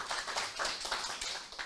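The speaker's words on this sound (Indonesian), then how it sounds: "Tepuk tangan dulu untuk" Applause from attendees at an agricultural training session, a short burst of dense, moderately close hand clapping with no talking over it.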